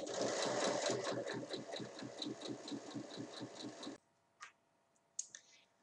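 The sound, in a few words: sewing machine stitching a seam down a basket side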